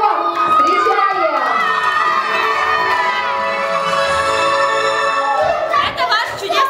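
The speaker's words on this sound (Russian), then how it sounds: "И встречаем бурными аплодисментами. Ваш шикарный выпускной торт!" A graduation party crowd, children among them, cheers and shouts loudly and steadily as the graduation cake is brought out, with continuous voices and clapping close by.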